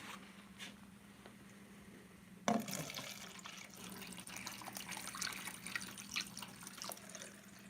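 Water filling a cup and draining away: faint quiet background, then a sudden splash followed by soft, steady trickling and dripping water, close and low in level.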